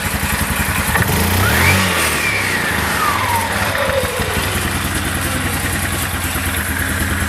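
A Yamaha vehicle engine with an Ultramatic CVT belt drive runs up close, a rough mechanical clatter that revs up briefly and settles back into a steady idle, no talking.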